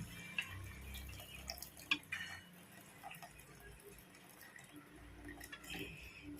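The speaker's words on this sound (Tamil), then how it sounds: "இந்த போட்டியை வந்து நம்ம வேக வச்சு வச்சுருக்கோம்ல, அந்த தண்ணி அதில் ஊற்றிக்கலாம்." Water from boiled intestines being poured into a cooking pan, a soft, faint liquid trickle with scattered drips and small clinks of metal, close by in a quiet kitchen.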